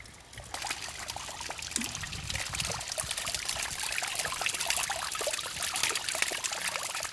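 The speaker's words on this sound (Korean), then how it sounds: "자, 비 오는 낙수 소리 테이크 원." Rainwater dribbling and trickling from the eaves, recorded for film ambience, forms a steady close stream of splashes and drips over a continuous watery wash with no talking.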